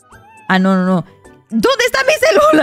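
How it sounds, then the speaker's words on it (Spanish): A single drawn-out cat meow from a Roblox game sounds, followed by a person talking quickly. "Acabo de escuchar a un gato."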